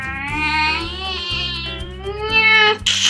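A cat meows in one long, drawn-out wavering cry, loud and close, over a steady musical backing, ending with a brief higher squeal.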